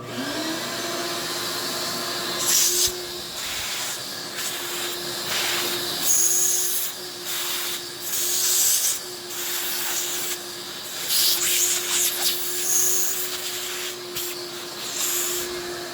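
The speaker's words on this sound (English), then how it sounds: "So I just have my little shop vac here" A shop vacuum drones steadily at close range while cleaning engine parts, with bursts of rough sucking and rattling as debris is pulled in, the motor tone holding constant throughout.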